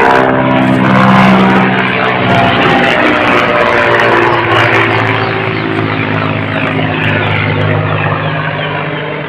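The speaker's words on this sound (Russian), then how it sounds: "вот это вертолет летит" A helicopter flies overhead outdoors, its loud, steady rotor and engine drone filling the whole stretch with a slight swell and then a gradual fade. No one speaks.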